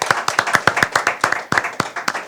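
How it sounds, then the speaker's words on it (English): Several people clap in a quick, crisp round of applause for the judges at a Caribbean debate and impromptu speaking competition semifinal. The claps are close and fairly even, with no talk. "A round of applause for our judges."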